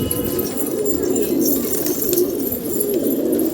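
A green pigeon that has just landed on an apartment rooftop coos softly in low, rolling calls, close by over a steady background hum.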